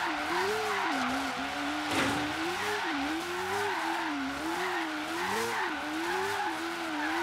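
A car in Forza Horizon 3 drifts tightly around a small roundabout, its tires squealing continuously as the engine revs and wavers, close and steady throughout.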